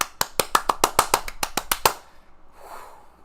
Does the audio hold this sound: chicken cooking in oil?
no